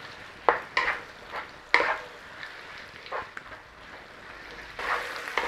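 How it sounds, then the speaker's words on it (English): Mushrooms and beef in black bean sauce being stirred in a pan, with scattered scraping and clinking strokes over a soft sizzle, fairly close and with no talking. "Mushrooms and beef. Let's have that stirred in."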